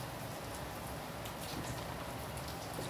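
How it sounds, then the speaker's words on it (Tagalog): Rain falling outside in Baguio, a soft continuous patter and hiss of drops on surfaces, steady and fairly faint throughout with no voices. "Umuulan sa labas."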